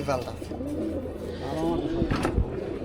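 Soft, low pigeon coos rolling under a background murmur, close by, with a brief louder bump near the end.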